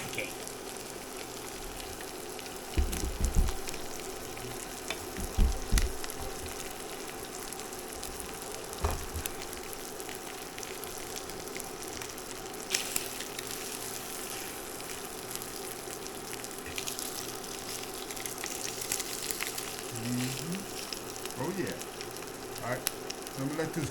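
A Boston butt steak fries in a pan with a steady low sizzle throughout, a few louder crackles and spatters near the start, and no talking.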